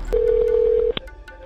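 A telephone tone sounds on a 911 emergency call recording, one steady held note lasting almost a second, cut off by a sharp click, then low line noise.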